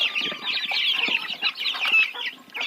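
Quails in their farmyard pen keep up a busy chorus of soft, rapid clucks and chirps, close and continuous with small bursts of louder calls, no talking.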